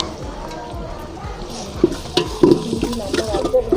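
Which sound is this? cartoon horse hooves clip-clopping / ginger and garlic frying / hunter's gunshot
ginger and garlic frying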